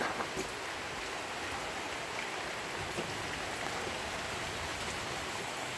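Steady heavy monsoon rain in Paulden, Arizona pours down in a dense, continuous hiss, with occasional louder drops striking nearby surfaces, flooding the ground.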